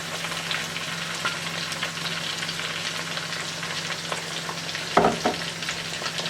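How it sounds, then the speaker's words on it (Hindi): Tomato with spices frying in a hot pan for masala dal, a steady loud sizzle running throughout with a brief stir or clatter near the end and no talking. "फिर 2 से 4 मिनट आपने जो है इसको यहाँ पर फ्राई करना है।"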